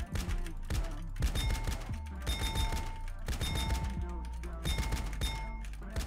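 Desert Eagle pistol fire in GTA San Andreas Multiplayer, with repeated loud shots in regular bursts over a background of game sounds.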